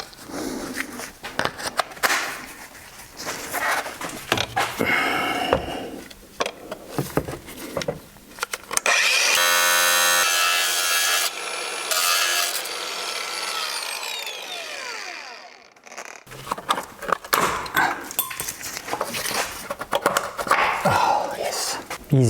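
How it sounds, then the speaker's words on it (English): Angle grinder cutting through a rusted car brake line on an E39, a loud, high-pitched whine of several seconds in the middle, with scraping and handling noises and occasional talk before and after. "The left brake line was so rusted that more drastic measures had to be taken. An angle grinder will help."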